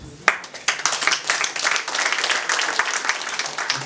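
Wedding guests in Kigali applaud together, a dense, close round of clapping that starts with a sharp clap and holds steady throughout.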